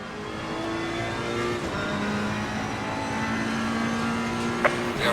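A race car laps the Nurburgring in Assetto Corsa Competizione, its engine droning steadily at high revs with gear changes and rising pitch, loud and continuous, with a brief sharp click near the end.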